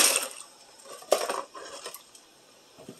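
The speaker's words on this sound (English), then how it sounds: "we're going to dump the pasta into the water." Dried pasta being dumped into a pot of boiling water, a quick close clatter of hard pieces against metal that thins out into scattered light taps, with no talking.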